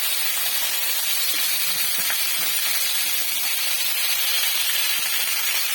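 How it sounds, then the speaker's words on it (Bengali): Bhetki fish heads fry in hot oil with a dense, continuous loud sizzle and hiss that stays even throughout, close and uninterrupted. "আমি সবগুলো মাছের মাথা দিয়ে দেবো ভাজবার জন্য"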